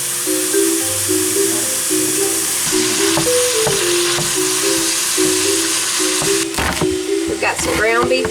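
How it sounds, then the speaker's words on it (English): Ground beef frying in a pan for a taco chili, a steady close sizzle and hiss with occasional stirring scrapes, under a voice talking and some background music. "We've got some ground beef cooking, chopping up an onion."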